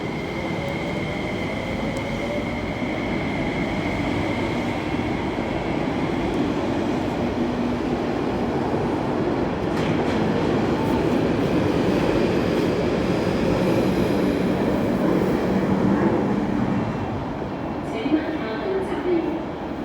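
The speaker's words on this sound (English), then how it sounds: "C train coming in." A metro train rumbles steadily into Tai Shui Hang Station, a continuous loud roar with faint squealing overtones throughout.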